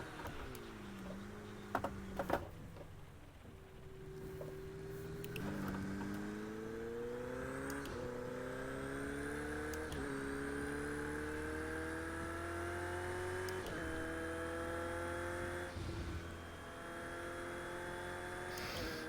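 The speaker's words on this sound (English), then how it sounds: "I love the engine sound of this car." Car engine sound from the racing video game Project Cars 2, played in rainy conditions, rising steadily in pitch through repeated gear changes, with a continuous moderate-level drone and no speech.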